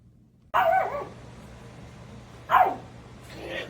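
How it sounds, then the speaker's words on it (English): A tiny small dog gives two sharp, loud barks about two seconds apart, close by, in an otherwise quiet indoor room with a faint third yip at the end. "One of them has got the bark going on this morning."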